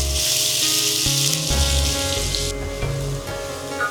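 Finely chopped onions dropped into hot oil with caramelising sugar, a loud burst of crackling sizzle that settles into steady frying hiss, close up with faint scraping and no voices.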